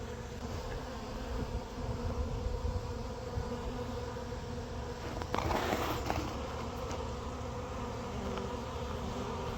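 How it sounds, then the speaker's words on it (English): Dense, steady buzzing of a packed beehive heard up close, a continuous hum with a brief louder swell partway through and no voices. "So I guess they're pretty well packed with bees."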